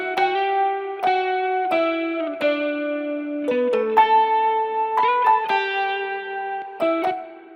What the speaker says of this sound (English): I'm following this melody, the pluck melody, with an electric guitar.